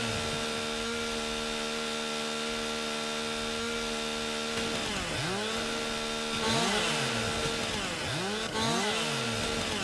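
A chainsaw fells trees in Farm Sim 19, its engine droning steadily, then revving up and down in repeated swooping cycles as it cuts. The sound is close and continuous, with no one talking.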